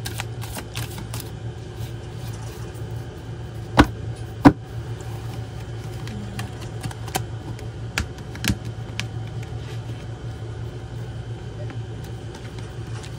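A deck of cards shuffled by hand in a room, with a quiet run of riffling and soft flicks over a steady low hum, plus a few sharp taps near the middle.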